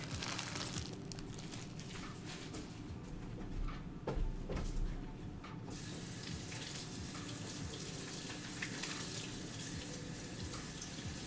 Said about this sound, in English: give this cabbage a rinse and take off the outer layer